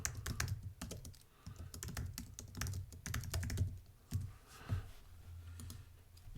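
Rapid, uneven keystrokes clatter on a computer keyboard up close, bursts of clicky taps with short pauses between runs, no one speaking.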